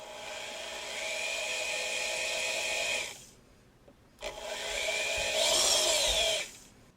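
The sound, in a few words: drilling dimples into 1095 steel knife tang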